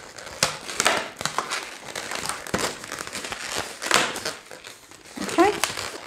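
Latex balloon being twisted and wrapped while making a giant koala balloon animal, close squeaky rubbing and crinkly stretching sounds in irregular bursts, with a brief squeal near the end.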